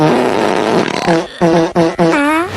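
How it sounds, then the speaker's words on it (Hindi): A loud, drawn-out fart, starting as a rough buzzy rumble and breaking into several stuttering tonal squeaks that rise in pitch toward the end, close and alone. "कल रात से पाद रोक के बैठा हूँ।"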